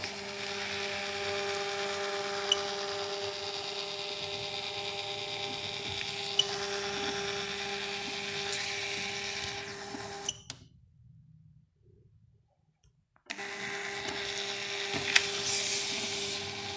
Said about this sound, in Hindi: प्रिंट की कमांड दे रहा हूँ, ये यहाँ से आपका प्रिंट आ गया